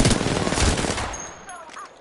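Apex Legends machine-gun fire rattles in a dense, loud burst over the first second, tapers off, then a single sharp shot cracks at the end, with a voice in the background.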